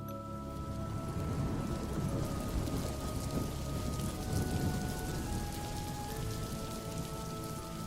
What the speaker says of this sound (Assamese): সেই ঢেৰেকনিৰ লগে লগে নামি আহিছিল বৰষুণ জাকো।